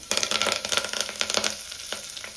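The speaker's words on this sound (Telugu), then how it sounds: "ఇప్పుడు దీనిలోకి తాలింపు గింజలు ఇప్పుడు కరివేపాకు" Close, lively sizzling and crackling of tempering seeds and curry leaves hitting hot oil, sharp pops crowding together at first, then thinning out.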